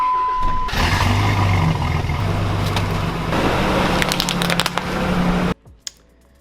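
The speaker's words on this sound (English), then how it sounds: "then I figured I'd just drive over it with my truck" A pickup truck drives over a keto brick, a loud, steady engine rumble with road noise lasting about five seconds, a few sharp clicks near the end, then cutting to near silence.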